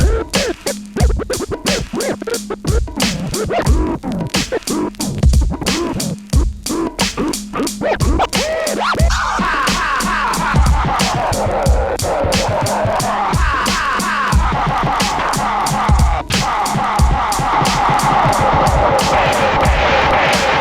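Scratching and fader effects on a Rane Seventy A-Trak signature edition DJ mixer, with dense rhythmic cuts over a steady pitched, wobbling processed tone running loud and continuous throughout.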